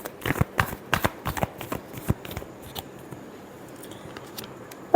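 Tarot cards being shuffled up close, a run of sharp riffling snaps that is dense for the first two seconds, then thins to scattered soft flicks and fades toward quiet.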